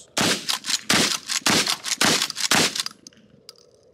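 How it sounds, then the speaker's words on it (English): A Winchester SXP pump shotgun fires five loud, booming shots at roughly half-second intervals, each blast with a harsh crack and short decay, followed by a few faint mechanical clicks. "Okay, so 5 shots through all of your walls"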